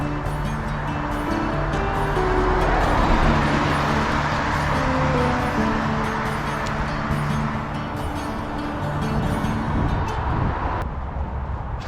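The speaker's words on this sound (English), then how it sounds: "You never really leave the roar of the traffic behind from the M60 on this stretch" Constant roar of motorway traffic from the M60 near Cheadle, heard from a riverside footpath: a steady, broadband wash of passing vehicles that swells slightly and never lets up, with no voices.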